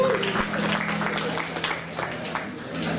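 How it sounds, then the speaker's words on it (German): Audience applause in a small café concert venue greeting a band's vocalist and bassist, a dense spread of clapping that holds steady for a few seconds, with a voice briefly heard over it. "Ein extra lieben Applaus"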